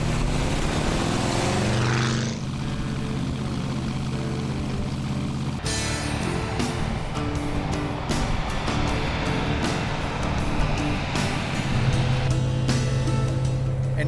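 A 1928 extended-cab hot rod pickup drives along, its engine a steady droning rumble with an abrupt change in tone partway through as wind and road noise build.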